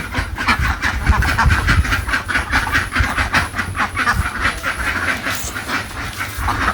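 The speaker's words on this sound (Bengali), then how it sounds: "এই যে হাঁস আইসা পড়ছে" A crowd of ducks returning home at dusk in a village quacks continuously in a dense, choppy chorus, loud and close, with a rumbling background underneath.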